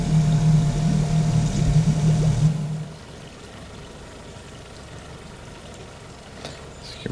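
A 2016 Yamaha 90 outboard engine idles steadily with a low hum during an idle air control test, then drops sharply to a quieter, settled idle partway through as the valve adjusts.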